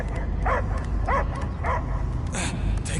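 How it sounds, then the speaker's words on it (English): A dog barks in the Guardians of the Galaxy video game, three clear, evenly spaced barks followed by a higher yelping burst, close and loud over a constant game soundscape. "I hear only barking."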